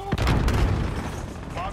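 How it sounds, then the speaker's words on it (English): A gunshot in a first-person shooter game: a sharp, loud crack right at the start, followed by a rumbling, echoing tail of battle noise close by. "Shot him in his backpack."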